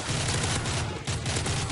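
Rapid automatic gunfire from a weapon in Call of Duty: Modern Warfare 3, a dense, continuous burst of shots that fills the whole moment loudly and closely, with no talk over it.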